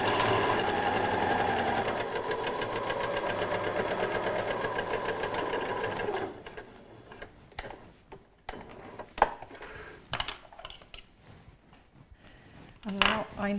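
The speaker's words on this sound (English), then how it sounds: "So just forward and back to lock the stitches and then sew the seam." A sewing machine stitches a cushion seam in a fast, steady mechanical whir for about six seconds, then stops, followed by scattered close clicks and handling knocks of the fabric and pins.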